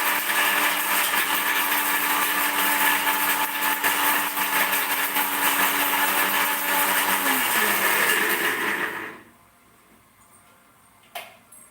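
A mixer grinder runs steadily as it grinds coconut for a curry, a loud continuous motor whine for about nine seconds before it is switched off, leaving near silence with one brief click.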